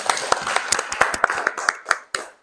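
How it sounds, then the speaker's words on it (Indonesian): A small class in an Indonesian classroom claps hands, with a dozen or so separate, uneven claps spread over a couple of seconds that fade out at the end. "Oke, tepuk tangan."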